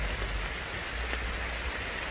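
Heavy rain pounds down during a motorcycle trip in the mountains, a dense, constant hiss of downpour close by, broken only by a few faint knocks.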